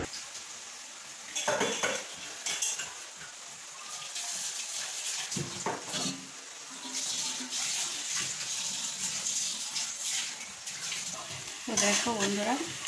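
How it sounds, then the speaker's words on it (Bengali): Dishes scrubbed by hand under running tap water, with a continuous water rush, clinking utensils and intermittent scraping, close and moderately loud. "এখন যেরকম বাসন মাজছি ঘস ঘস করে আওয়াজ হচ্ছে"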